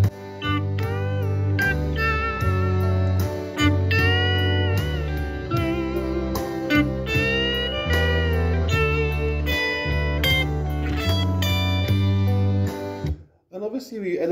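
Guitar plays the intro to a song, melodic bending lead lines over a warm, steady chord backing, sustained and moderately loud before fading out near the end.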